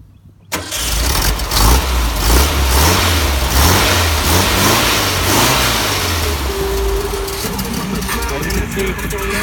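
A custom Mini T built on a VW engine cranks and catches after a brief quiet start, then runs loud and close, rising and falling through several revs before settling into a steady rough idle.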